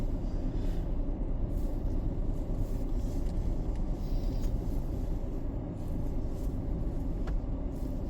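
Steady road traffic rumble from cars driving into Newcastle's West End for Christmas shopping, a continuous low drone of engines and tyres at moderate distance with no break.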